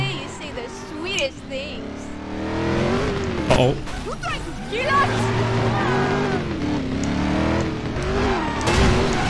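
Ford GT engine revving hard during a drift in Driver San Francisco, a loud rising and falling engine roar with tire noise, a voice talking over it throughout.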